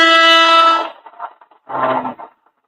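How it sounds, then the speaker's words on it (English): A loud, blaring air horn sound effect that sustains for about a second, followed by a shorter second blast after a brief gap, in a podcast setting. "That's I think that deserves some air horn."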